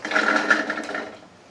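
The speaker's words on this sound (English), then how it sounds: "So first things first, food processor." A food processor whirs briefly while chopping garlic, a loud buzzing burst that fades out after about a second.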